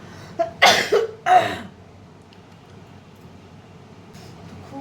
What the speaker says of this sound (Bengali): দেখেছেন কাশি হচ্ছে